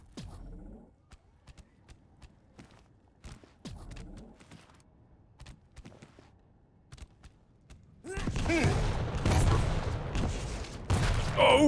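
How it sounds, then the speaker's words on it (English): Rocket launcher fire and explosions in a Quake match, sharp repeated weapon shots and impacts for several seconds, then a dense loud burst of blasts and action near the end. "Oh, nice rockets."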